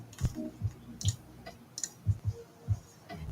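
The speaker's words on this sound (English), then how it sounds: "I've actually just bought these scissors and they're so cool" Grooming scissors snipping at close range, several sharp separate clicks at an uneven pace in an otherwise quiet room.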